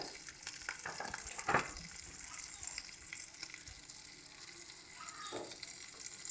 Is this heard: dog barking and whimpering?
no